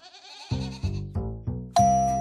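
A goat gives a short bleat, followed by a run of four ringing, chime-like musical notes that climb to a louder final tone.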